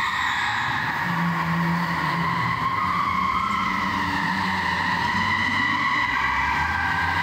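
At the Drifta Halle indoor drift venue in Latvia, a car drifts with a continuous, loud tire squeal and skidding screech over a steady engine roar, sustained and close throughout.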